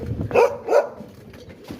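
Two close, sharp dog barks in quick succession, followed by a fainter third bark shortly after, at a farm gate in rural Punjab.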